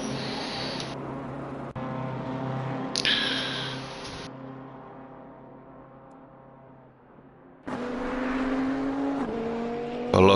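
Race cars in Assetto Corsa Competizione at a multiclass race, engines revving and passing close by in loud surges, with a steady engine drone between passes.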